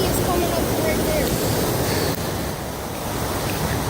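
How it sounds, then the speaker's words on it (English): Strong floodwater surging near a flooded bridge, a loud roaring wash like sea surf with wind buffeting the microphone, easing slightly after a couple of seconds. "It's too strong because that whole sea is coming up to right there."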